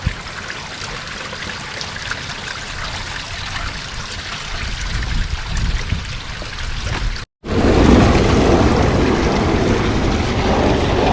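Water flows steadily in a backyard garden pond after its spring clean-out, a continuous trickling rush that briefly cuts out and returns slightly louder and fuller.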